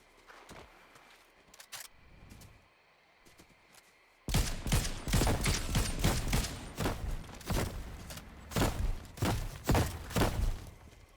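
In Fortnite, a short stretch of faint sounds gives way abruptly to rapid, loud bursts of explosive Red Eye gunfire and thudding impacts that go on steadily until the end, with no talking.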